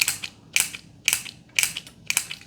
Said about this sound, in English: Stapler.